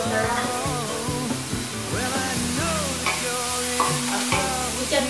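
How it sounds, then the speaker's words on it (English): Sausage frying in a pan during a ramen cook-off, a busy continuous sizzle with clattering pan and utensil knocks, mixed with tonal sounds that could be background music. "So now Yenzo is cooking his sausage."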